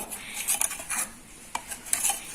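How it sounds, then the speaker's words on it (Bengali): Light clinks and scrapes of a utensil stirring a thick yogurt mixture in a bowl, irregular taps spread over a couple of seconds, close by. "দইটা দেওয়া শেষ এবার আমি এটাকে ভালো মতো মিক্স করে নিব"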